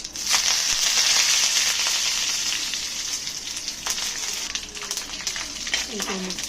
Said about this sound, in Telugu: ఇది తాలింపు పెట్టాలి. 2 స్పూన్ల ఆయిల్, 1 స్పూను తాలింపు గింజలు, కడిగి పెట్టిన కరివేపాకు